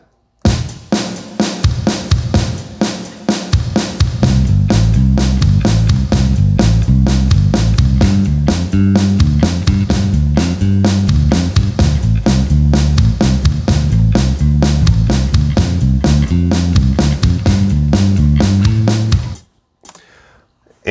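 Motown bass groove played as a steady repeating four-chord pattern, loud and close, running without talk before cutting off near the end.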